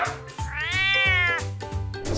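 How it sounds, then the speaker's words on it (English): A cat gives one long, drawn-out meow, rising then fading, loud and near, with light music underneath. "cat,"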